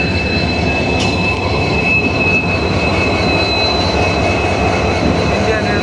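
An Indian Railways intercity train moves at a platform in Siliguri, with a steady loud rumble of wheels on rails and a sharp metallic squeal running through it.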